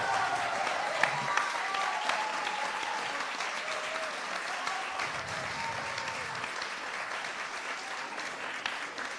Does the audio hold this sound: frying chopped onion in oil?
no